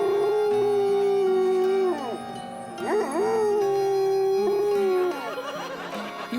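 A dog howls in long, wavering rising and falling notes, repeated several times close by, with a softer background tone beneath.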